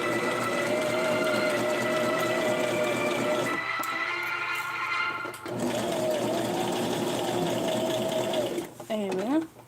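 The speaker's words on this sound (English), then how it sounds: "Sewing up the last bit of the back." An electric sewing machine runs steadily while it stitches the back of a small doll outfit. The near, whirring drone pauses briefly, starts again, then stops, and a voice talks over it.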